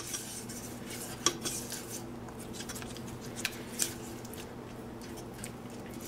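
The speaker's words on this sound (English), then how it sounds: "And it's time to mix again." Utensil scraping and clinking in a bowl while a vegan chocolate mixture for salted caramel chocolate bark is stirred, with soft continuous scraping and a few sharper metallic taps, close and quiet.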